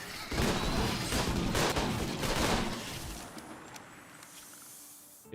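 RimWorld video game gunfire: a dense burst of overlapping shots and crackling volleys fills the first few seconds, then thins into a faint hiss with a last small pop.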